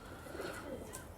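An Amritsari pigeon gives a brief, faint, soft coo against low background noise.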